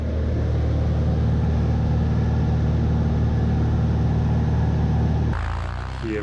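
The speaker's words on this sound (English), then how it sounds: "Here we're taking off from Lord Flat in Oregon. We're heavily loaded." A heavily loaded light aircraft at full power taking off from Lord Flat, Oregon, its engine and propeller droning loud and constant from inside the cabin, with the tone shifting near the end.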